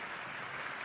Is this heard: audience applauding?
yes